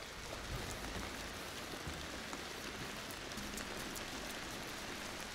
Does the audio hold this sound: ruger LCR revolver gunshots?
no